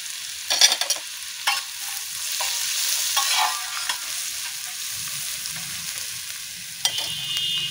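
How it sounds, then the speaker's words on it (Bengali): Chopped carrots and other vegetables stir-fry in a hot pan for egg chowmein, a continuous moderate sizzle broken by occasional scrapes and knocks of the spatula. "চাউমিনে কিন্তু কোনো সবজি বেশি ভাজার দরকার নেই, যেন ক্রাঞ্চিনেসটা সবজির থাকে"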